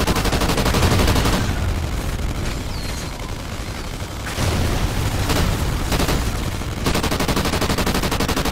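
Sustained automatic gunfire rattles nonstop while shooting at an enemy in Call of Duty Ghosts Extinction, a dense, loud stream of rapid shots with brief dips before the firing surges again.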